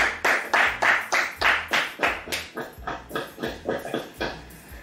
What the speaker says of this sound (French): On acclame Frédéric.